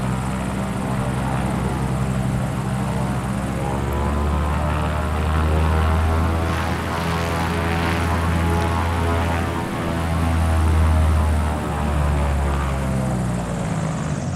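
Propeller plane engine in MS Flight Simulator droning steadily with a low pulsing hum and rising and falling whine, close and continuous throughout.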